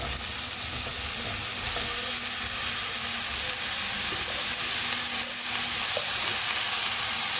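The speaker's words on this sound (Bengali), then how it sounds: "এর মধ্যে আমি কেটে রাখা লাউগুলো এবার দিয়ে দিচ্ছি" Sliced bottle gourd tossed into hot oil with fried spices, a continuous loud sizzle and hiss with faint stirring scrapes, no talking.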